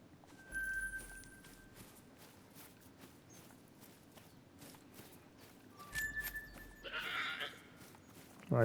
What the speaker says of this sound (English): take a look at this yelling goat